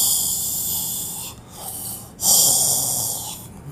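A narrator's voice imitates a man snoring, producing a few close, breathy snorts and wheezing inhales over a few seconds, with no words spoken.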